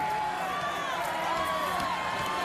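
A crowd cheers steadily and continuously for an American Ninja Warrior contestant at the Denver qualifiers, his girlfriend and mother among the supporters, with loud sustained shouting and whooping and no pauses.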